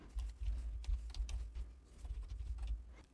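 Login credentials are typed on a computer keyboard as soft, quiet scattered key taps over a low hum, irregular and close.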